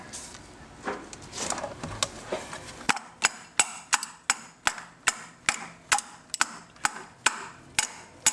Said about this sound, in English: couple whacks so we know it's on there.